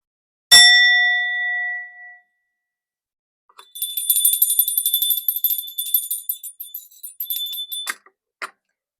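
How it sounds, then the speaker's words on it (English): A bell rung to cleanse the air gives one clear ding that rings out and decays over about two seconds, followed by a bright, rapid shimmering jingle of metallic chimes and a last small tinkle. "And I'm going to ring the bell."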